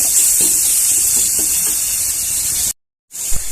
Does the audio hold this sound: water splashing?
yes